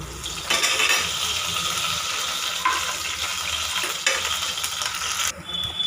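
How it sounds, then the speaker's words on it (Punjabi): Garlic and green chilies frying in hot oil for an aloo methi dish, a loud steady sizzle with sharp crackling bursts and a few stirring scrapes, no voices over it. "ਤੇਲ ਗਰਮ ਕਰਕੇ ਲਸਣ ਤੇ ਹਰੀਆਂ ਮਿਰਚਾਂ ਪਹਿਲਾਂ ਆਪਾਂ ਪਾ ਦਾਂਗੇ ਤੇ ਇਹਨੂੰ ਆਪਾਂ ਥੋੜਾ ਜਿਹਾ ਫਰਾਈ ਕਰ ਲਾਂਗੇ"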